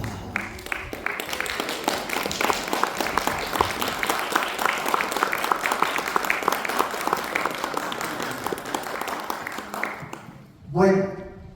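A theatre audience applauding during a talk, a sustained wave of steady crowd clapping that fades near the end, followed by a brief voice.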